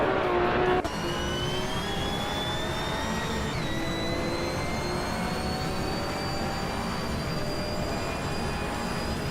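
Group 5 and vintage Trans Am race cars lapping Castlecombe in a racing game, a steady high engine whine that holds loud and continuous, rising slightly in pitch as the cars power on.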